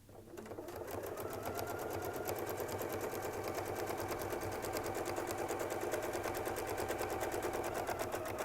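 A sewing machine stitches a quilt design, a rapid, even mechanical chatter that starts up and then runs steadily and close at constant speed without talk.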